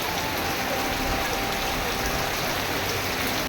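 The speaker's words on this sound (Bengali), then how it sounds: "যে পরিমাণে বৃষ্টি দেখো তোমরা" Heavy rain pours steadily in a village on a wedding day, a dense, loud, unbroken wash of drops hitting surfaces with no pauses.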